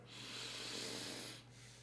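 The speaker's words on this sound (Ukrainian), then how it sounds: "Глибокий вдих." A slow, deep inhale taken as part of a breathing exercise before sleep, a steady airy rush that swells for over a second and then eases off, close and alone.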